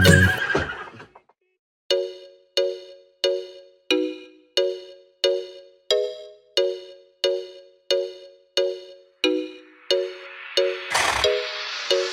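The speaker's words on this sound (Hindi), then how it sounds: "चल मेरे घोड़े चल टिक टिक, तुम हिला के चल टिक टिक।" A horse whinnies once at the start, then a steady run of regular clip-clop hoofbeats trots along alone, loud and close, ending in a burst of brighter noise.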